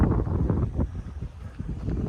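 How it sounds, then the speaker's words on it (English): Strong wind gusting across an open field beside woods in rural Minnesota, buffeting the microphone with a loud, continuous rumbling roar that rises and falls. "It's pretty windy out here today"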